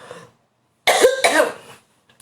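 A single person's cough, a loud close burst of two or three rough hacks with a throat-clearing edge, preceded and followed by quiet, during a live online talk where the speaker's voice is strained.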